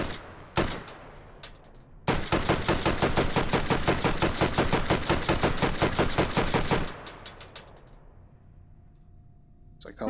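A fully automatic gun fires in Hot Dogs, Horseshoes & Hand Grenades, played in VR, with a few single shots and then a loud, sustained burst of rapid fire lasting several seconds before stopping.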